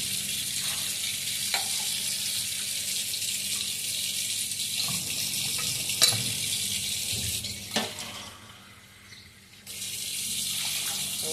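Water poured into a pan of hot sizzling masala for a potato and drumstick gravy, a steady hiss and bubbling with a few clinks of a utensil, fading near the end before resuming.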